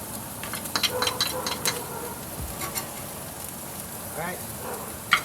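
Pork chops searing in garlic butter in a pan, a steady soft sizzle throughout with a few clinks and scrapes, and a voice speaking briefly over it.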